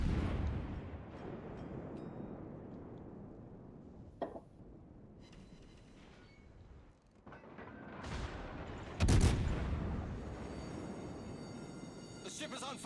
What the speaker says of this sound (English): their Des Moines is constantly shooting me